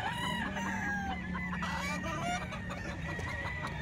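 A young rooster (stag) offered at a poultry sale clucks and gives short, strained crowing calls close by over a steady background murmur.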